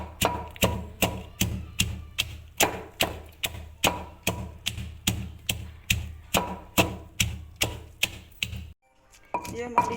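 Coriander, green chilies and salt hand-ground the traditional way for chutney, a steady rhythm of sharp pounding knocks about twice a second, close and fairly loud, stopping near the end with a short pause.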